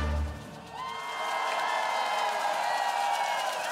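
Crowd at the BBBBZ 2023 event cheers and applauds after music fades, a sustained wash of clapping and whoops that rises and holds loud, with a brief tail of music at the start.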